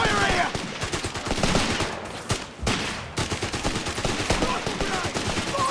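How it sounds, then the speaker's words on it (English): Dense, continuous gunfire with rapid machine-gun bursts and scattered single shots fills a Company of Heroes 3 battle on PS5, loud and close throughout, with a brief lull in the middle. "Taking heavy enemy fire here!"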